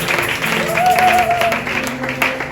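A church congregation applauds the Lord during a French-language worship service, producing a steady wash of clapping at moderate loudness that runs through the whole moment, with a faint sustained tone rising briefly in the middle.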